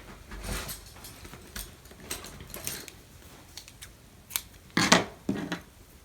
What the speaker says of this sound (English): now you will tie off with a pair of scissors